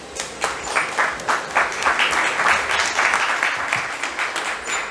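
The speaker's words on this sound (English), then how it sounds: "Ladies and gentlemen, please a round of applause." Audience applause for football figures at a Nedbank Cup 2023 event, a dense, steady round of clapping from a sizable crowd lasting throughout, close and fairly loud with no talk over it.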